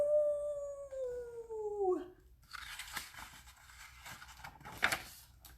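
A long, falling howl sustained for about two seconds, clear and fairly loud, followed by scattered crunchy noises and rustling, with no talking.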